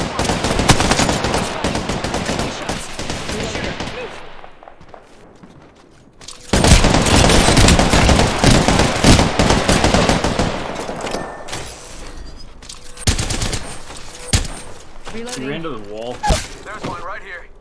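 Heavy gunfire fills an Apex Legends match in long, loud bursts of rapid automatic shots. Cracks and thuds come in waves with brief quieter gaps, and players talk over the fighting.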